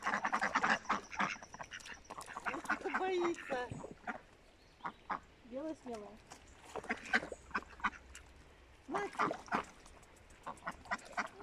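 Ducks being fed quack in short, repeated bursts at close range, mixed with people talking quietly nearby.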